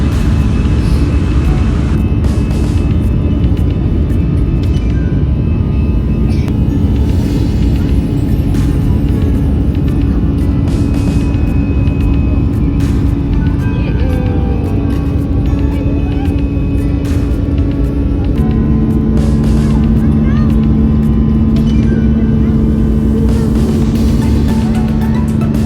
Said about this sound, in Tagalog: Ayan nga, lilipad na ang aming aeroplano.